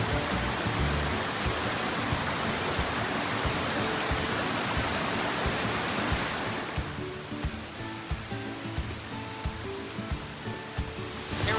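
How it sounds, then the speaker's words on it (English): Steady, dense rushing water roars continuously from Secret Falls on Kauai, close by, easing slightly in the later part but never stopping. "We are at Secret Falls in Kauai."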